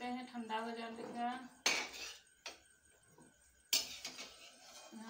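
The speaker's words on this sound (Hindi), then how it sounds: "गोभी को छान लेते हैं, इसमें उबल गई है तो इसको हम छान के रख लेते हैं" Boiled cauliflower being strained in a kitchen, with sharp metallic clatters of utensils and pots striking at intervals, starting under a voice.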